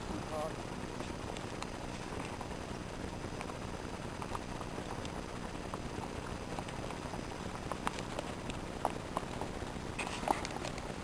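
A horse clip-clopping along a road near the former East German border at Hötensleben, its hooves giving soft, irregular knocks under a steady outdoor rumble, with a few sharper hits near the end.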